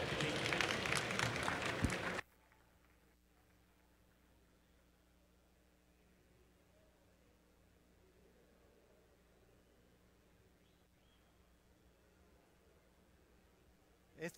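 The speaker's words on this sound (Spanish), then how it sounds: "Un aplauso," Audience applause at a Campus Party Mexico conference talk on the Internet of Things and public policy, a dense burst of clapping for about two seconds that cuts off abruptly into a quiet room with low hum.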